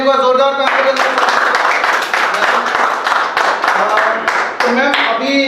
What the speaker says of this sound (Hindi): एक बार जोरदार तालियों के साथ उनका स्वागत करिए